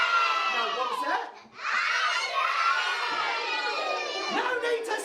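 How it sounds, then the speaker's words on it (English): Children in an audience at a magic show scream and shout together, loud and high-pitched, with a brief dip before the shrieking surges again. "No need to scream!"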